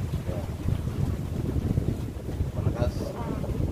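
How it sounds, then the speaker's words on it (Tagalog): Strong air rushes across the microphone beside a motor fitted with a bypass instead of a motor change, a continuous close, rumbling buffet of wind noise that stays loud throughout. "May hangin malakas."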